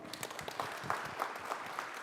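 Applause at a town hall meeting on access to affordable banking products: a brief, moderately faint patter of clapping from a crowd, spread evenly across a couple of seconds.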